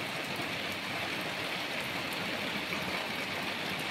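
Heavy, storm-like rain falls at night as a thick, unbroken roar of hissing spatter, close and steady throughout, with no one speaking.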